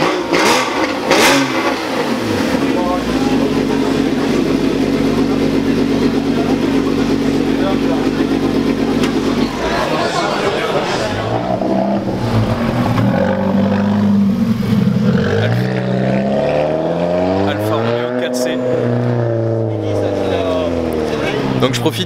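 A Porsche Cayman GT4 ClubSport MR track car revs its flat-six engine, first a loud sustained high-rpm blare, then repeated rising and falling blips close by, with someone talking over it.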